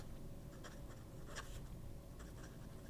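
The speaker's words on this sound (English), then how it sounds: "you could write with this, and it writes like a fine nib with no problems" A fine-nib fountain pen writes on paper, giving faint, soft scratchy strokes in short irregular bursts over a steady low background hum, close and quiet.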